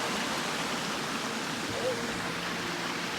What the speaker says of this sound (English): So you see Pogilla Waterfalls right below my feet.